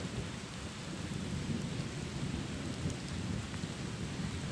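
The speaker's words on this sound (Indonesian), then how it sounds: "Gerimis guys." Light drizzle with thunder in mountain country at Gunung Gumitir: a steady wash of rain noise with low, continuous rumble underneath, fairly loud and unbroken, no voices.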